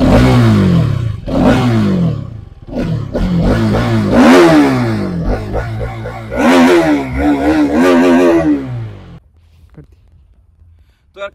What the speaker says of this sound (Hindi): तो भाई ये देख सकते हैं आप इसका एग्जॉस्ट नोट